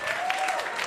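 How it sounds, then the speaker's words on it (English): Comedy club audience clapping after a stand-up joke, a brief steady burst of applause throughout, fairly soft and with no one speaking over it. "Don't clap."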